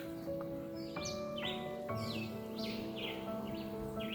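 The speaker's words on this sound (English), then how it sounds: "And you can hear the sound of the birds." Birds sing and chirp beside a quiet stream in Jamaica, with repeated short descending calls over a steady wash of running water, moderately distant and continuous, with no talk.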